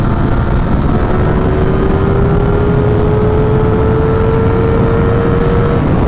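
A Ducati Streetfighter V4 motorcycle accelerates hard in sixth gear, a loud, continuous engine drone with a slowly rising whine inside a constant rush of wind noise.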